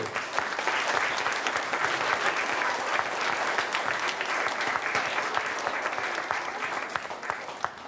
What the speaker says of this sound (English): let's give them a big round of applause too